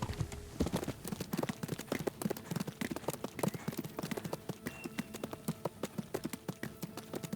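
Horse hooves clip-clop in a quick, steady rhythm in the medieval video game Kingdom Come: Deliverance, each hoof strike crisp and close.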